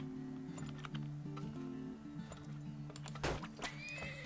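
Whinnying horses sound in the video game Turmoil, with short neighs and light clicking over a looping melodic game soundtrack.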